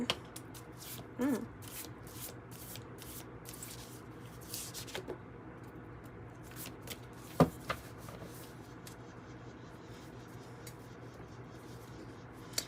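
Tarot cards are shuffled close up, a soft continuous rustle and slide broken by occasional sharper taps, without any talking.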